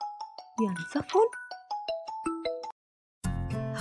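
Incoming-call phone ringtone plays a bright melodic sequence of chiming tones, clear and close, pausing briefly before a richer chime resumes.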